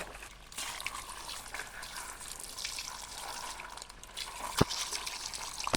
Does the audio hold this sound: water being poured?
yes